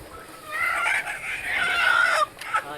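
A chicken on a goat and poultry farm calls out nearby in a long, drawn-out cackle, loud and clear, ending with a couple of short clucks.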